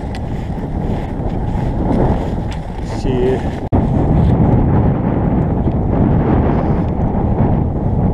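Strong wind roars and buffets the microphone steadily on a mountain ridge in the Ciucaș Mountains in winter, with a brief sharp knock partway through and a voice barely audible.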